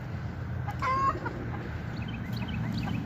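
Gray chickens at a cold outdoor farm auction give a few soft clucks and a short call over low rumbling background noise, with no one talking nearby.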